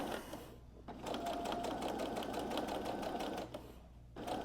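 A sewing machine topstitches just below a seam on a fabric art wallet, a steady, fast whirring run with brief dips at the start and end, fairly faint and close, with no talking.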